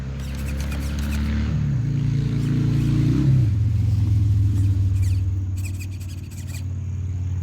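A Traxxas TRX4 high lift edition RC truck's electric motor whines and strains in a low, steady drone as it climbs over rocks, pitch stepping up as throttle is added, loud and close with no talking.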